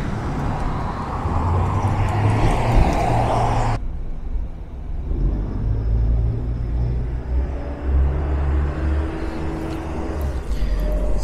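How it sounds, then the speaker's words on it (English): A car passing on a street in White Center, Seattle, its broad low rumble swelling and fading over several seconds amid outdoor city ambience, with no talking. "wait for this car to go by."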